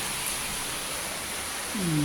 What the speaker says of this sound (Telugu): ఆగ్నేయం వైపు బాలకనీ నుంచి వర్షం.